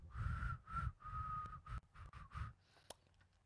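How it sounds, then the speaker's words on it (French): A person whistles a steady high tone in several short bursts, close and fairly loud, with breathy noise underneath, then trails off into faint scratching. "un biscuit n'est pas censé siffler"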